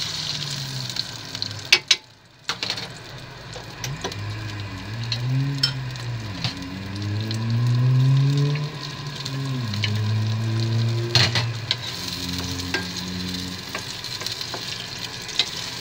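Beaten egg and prawns, with chopped spring onion, stir-fried in a hot pan; loud continuous sizzling with scraping stirring strokes throughout, a brief sharp clatter near the start.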